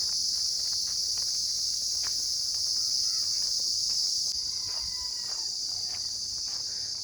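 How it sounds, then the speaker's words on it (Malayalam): A steady, high-pitched chorus of crickets in a date palm plantation trills without pause throughout, with faint scattered rustles underneath. "നാട്ടിൽ മാത്രമല്ല എവിടെയും ചീവീടുകളുണ്ട് കേട്ടോ"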